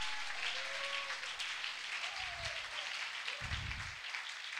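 A church congregation applauds, a faint, steady wash of clapping heard from a distance, with a few low thumps from the room breaking through partway.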